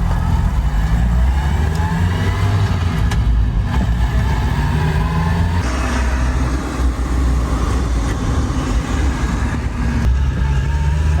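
A rebuilt 1.8-litre Mazda Miata engine pulls hard at full throttle in third gear, a loud, continuous close-up drone that climbs steadily in pitch as revs rise.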